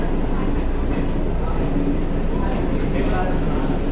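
Sainagar Shirdi Express train rolling out of Vikarabad station, a steady loud rumble of wheels and carriages throughout, with a voice talking over it.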